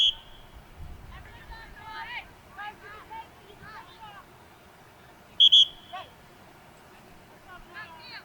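A referee's whistle at a high school girls' varsity soccer match gives a short double blast partway through, sharp but fairly distant, set among crowd chatter and commentary.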